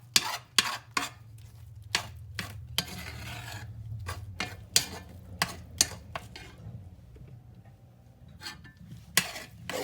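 A metal spoon scrapes and taps against a cast iron pan in short, irregular bursts of rasping strokes and clinks over a faint low sizzle, close up and quiet, with no voices.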